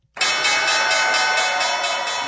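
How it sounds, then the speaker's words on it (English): A bright, ringing bell strikes once and sustains with a rich shimmering tone as a segment opener for a closing bell stock report on a live talk show, loud and alone. "And here's your closing bell report."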